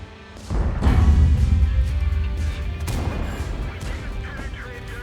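KV-4 Turchaninov heavy tank gun in World of Tanks fires one loud, booming cannon shot, followed by a rumbling tail and a second, fainter impact as the echo fades.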